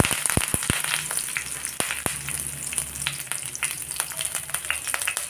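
Curry leaves hit hot oil in a pan, bursting into a dense, loud spitting sizzle with sharp crackles and pops throughout. Nobody speaks.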